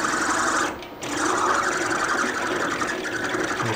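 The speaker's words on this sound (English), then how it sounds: "We're cutting the thread out basically. It's jumping a bit as it's pulling those threads out." A drill cuts out a damaged thread in stainless steel, a steady mechanical whir at close range with a brief dip as it jumps while pulling the threads out.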